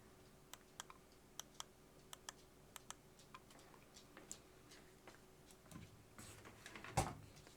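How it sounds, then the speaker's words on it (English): The scroll wheel of a Razer Diamondback mouse gives a series of sharp, evenly spaced clicks, close and quiet, followed by a short burst of faster rattly clicks near the end. "And the scroll wheel click."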